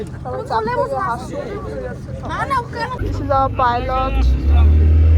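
A tourist boat's engine starting for a ride on water in hilly Jharkhand, a low rumble rising under people talking nearby and growing louder toward the end.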